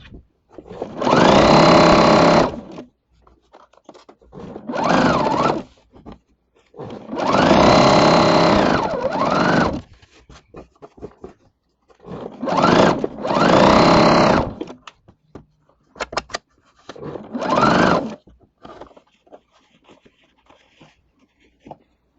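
A sewing machine stitches a nested quilt seam on flying geese blocks in repeated close bursts of a few seconds each, separated by short pauses, loud and mechanical with a steady rapid hum.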